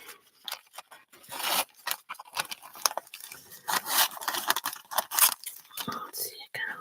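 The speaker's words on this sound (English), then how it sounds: "what we're going to do here is cut pieces" Scissors cut paper pieces for a postcard, with repeated crisp snips and rustling close by, mixed with soft talking throughout.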